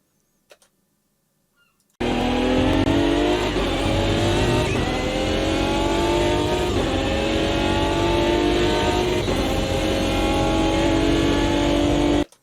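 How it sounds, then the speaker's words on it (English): Racing car with a V12 engine in the sim game Automobilista 2, roaring loud and sustained after a brief silence, revving with strong rising harmonics and bright high-end intake hiss throughout. "kind of the intake noise of the V12, which is a fairly characteristic noise"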